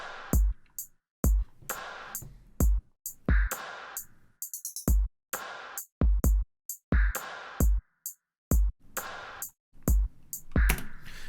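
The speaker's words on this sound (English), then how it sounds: "So the drums all together," A drum loop programmed in FL Studio, with punchy kick, clap, filtered snare and hi-hat hits repeating in a steady, tight rhythm across several bars, loud and unaccompanied, with a quick hi-hat roll partway through.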